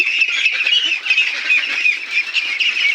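A flock of nineteen-day-old Pekin ducks of the Star breed keeps up a dense, continuous chorus of shrill quacks and squawks, close and loud, without any human voices.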